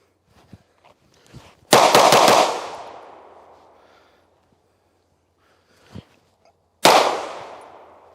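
Two loud, close gunshots ring out during a shooting drill, each with a long reverberant tail, the first preceded by a short rapid burst of cracks; faint small clicks and handling noises fall between them, with no talk.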